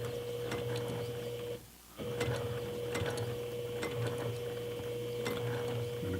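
Sewing machine stitching a seam along the end of a fabric pull tab for a makeup bag, a steady mechanical hum with faint ticking clicks, briefly pausing mid-run before continuing.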